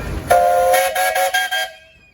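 A steam traction engine at a steam and threshing show in Sycamore, Illinois, blows a loud, close, bright whistle in a long blast broken into several short pulses, then cuts off sharply into quiet.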